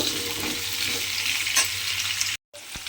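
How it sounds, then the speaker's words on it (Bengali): Potatoes and pumpkin fry in oil with a steady, close sizzle and a few faint stirring scrapes, then a brief drop to silence before the frying resumes. "এবারে আমি আলু আর কুমড়োটা একটু সময় নিয়ে লাল করে একটু ভেজে নেব।"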